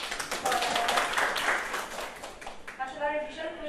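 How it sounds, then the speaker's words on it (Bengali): An audience claps at a certificate ceremony where the Bangladesh football federation president hands certificates to educated people with disabilities. The applause is brisk and fairly loud, with voices mixed in. "তার জন্য আমি একটু হাততালি কামনা করছি।"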